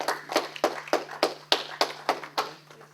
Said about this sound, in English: Give this brother Prince Sariel a round of applause, please.